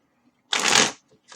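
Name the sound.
shuffling tarot cards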